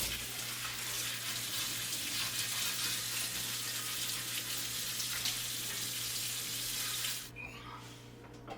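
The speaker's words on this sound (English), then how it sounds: "So I'm just gonna rinse this off really quick" A cast iron pan is rinsed under a steadily running kitchen tap, the water rushing loud and even for about seven seconds before it cuts off, leaving quieter dripping and clatter.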